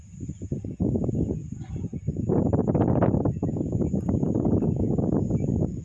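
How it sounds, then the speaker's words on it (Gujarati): Steady rushing wind blows throughout during rain in hilly country, a loud broadband roar that swells and gusts without a break. "પવનનો અવાજ તમે સાંભળતા હશો વિડીયોમાં।"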